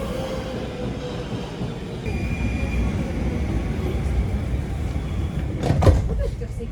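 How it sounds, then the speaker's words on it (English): A Brussels Metro train rumbles steadily as it arrives at a station, with a brief high squeal and clatter near the end as it slows; a faint tone hums through. "when a train arrives at Gare Centrale and de Beaucaire"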